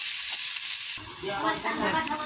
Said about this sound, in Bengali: পেঁয়াজ আর লঙ্কাটা একটু ভাজা ভাজা করে নিচ্ছি হালকা করে